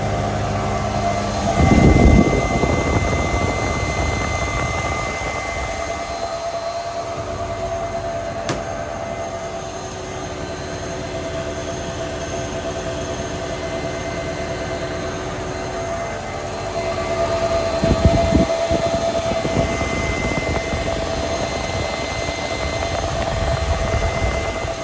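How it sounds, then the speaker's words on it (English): A 1997 Mercedes SL500 with the M119 5.0 V8 runs steadily in a garage after a thermostat replacement, a continuous rumbling idle with faint whine overtones and a couple of brief clunks, with no voices. "I'm gonna get it started and make sure it doesn't leak anywhere"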